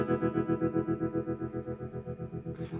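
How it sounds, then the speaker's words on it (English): Electric guitar E chord ringing through a tremolo pedal, its volume pulsing rapidly and evenly for a few seconds before the chord is cut off. "Now, if I engage my tremolo effect,"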